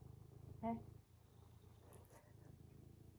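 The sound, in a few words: cat purring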